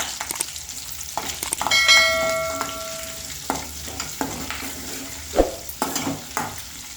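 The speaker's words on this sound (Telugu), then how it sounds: "మంచిగా ఇట్లా కలమాకు మెంతులు ఇవన్నీ ఫ్రై అవుతాయి కదా" Curry leaves and fenugreek seeds fry in hot oil in a pan for gongura pickle, a steady close sizzle with a sharp burst of crackling and spitting as the leaves hit the oil, then lighter stirring clinks.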